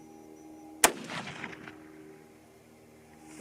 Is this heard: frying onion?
no